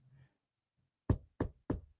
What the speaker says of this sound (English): Knocking on my door.